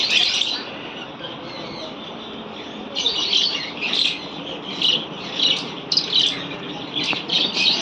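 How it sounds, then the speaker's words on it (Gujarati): Bursts of shrill chirping from cockatiels and parrots in a bird shop, repeating roughly every second over a busy background murmur of birds. "વિવિધ જાતના કોકાટેલ અને પેરોટ"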